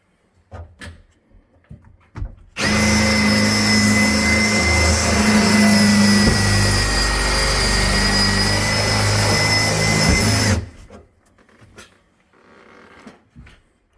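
A Unibit step drill bit bores into a metal HVAC plenum, a loud, harsh continuous whine with grinding metallic overtones lasting about eight seconds, bracketed by quieter knocks and handling sounds.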